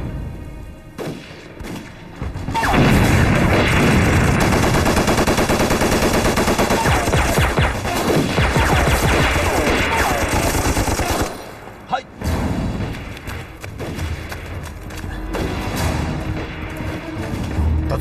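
A battle scene in an anti-Japanese war drama with snipers fills with loud, sustained bursts of machine-gun fire and rifle shots, layered with heavy booms and thuds, briefly dropping off before the firing resumes.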